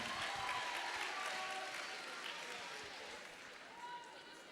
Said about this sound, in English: Scholars, let's have a round of applause for your entire panel